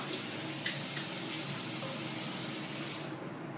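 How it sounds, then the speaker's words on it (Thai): Tap water runs steadily into a sink as a face is rinsed after cleansing, giving a loud, close, continuous rush with small splashes that stops near the end. "เราก็ ล้างน้ำทีนึงเนาะ"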